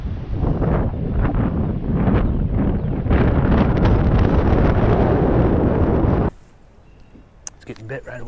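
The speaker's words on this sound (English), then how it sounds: "And I mean crazy freaking windy." Strong gusts of wind buffet a microphone beside an Iowa river in early April, a loud continuous roar for about six seconds before dropping off to a quieter background with a few faint knocks.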